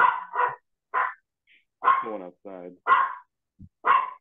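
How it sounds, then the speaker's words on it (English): A small dog barking in sharp, high yaps, loud and close, in irregular bursts with gaps between, while a person briefly speaks. "sorry about the dog."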